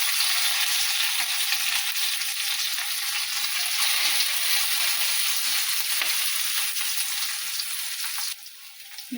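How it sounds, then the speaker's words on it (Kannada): Curry leaves and ginger garlic paste fry in hot oil for aloo paratha filling, a steady bright sizzle that drops in intensity near the end as stirring settles. "ಕರಿಬೇವು ಮತ್ತು ಶುಂಠಿ ಬೆಳ್ಳುಳ್ಳಿ ಪೇಸ್ಟ್ ಹಾಕ್ತಾ ಇದ್ದೀನಿ"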